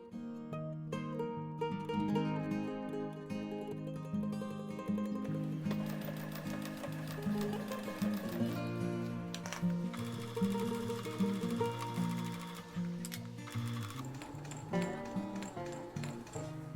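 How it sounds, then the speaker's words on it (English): A sewing machine stitches the sides of mesh fabric pockets with a narrow 1/8-inch seam, giving a steady rapid ticking hum in bursts that speed up and pause, with faint background music throughout. "we're going to go ahead and sew the sides of our pockets using only a 1/8 of an inch seam"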